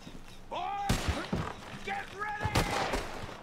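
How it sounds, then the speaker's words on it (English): Gunshots ring out in the video game Red Dead Redemption 2, two or three sharp, loud cracks spaced about a second apart, with voices and shouting between them. "Udah ditembak sama John Marno"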